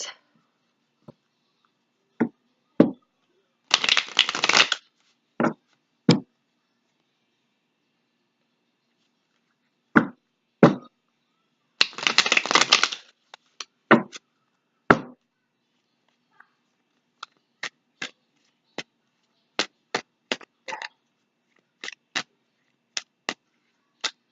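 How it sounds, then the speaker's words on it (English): Quick bursts of riffling tarot cards being shuffled alternate with scattered light taps and clicks, close and fairly quiet, with pauses between. "we're going to start shuffling here. And I'm going to spread out 7 cards."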